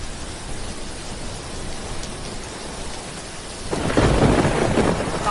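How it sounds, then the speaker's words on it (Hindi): Rain pours steadily in a thunderstorm with wind and a low thunder rumble, then the downpour swells louder and heavier toward the end. "बारिश और हवा इतनी तेज थी कि पेड़ गिरने लगे।"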